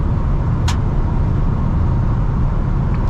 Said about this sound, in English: Gonna go ahead and put it into overdrive, and we're sitting at 1600 RPMs at about 60 miles an hour